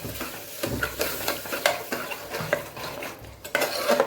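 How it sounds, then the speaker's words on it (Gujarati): Spoon stirring curd into samo millet khichdi in a pot, a series of soft scraping and sloshing strokes with occasional clinks against the vessel, close and fairly quiet. "બે ચમચા જેટલું આપણે દહીં ઉમેરશું એ પણ સરસ આપણે સાથે મિક્સ કરી લઈશું"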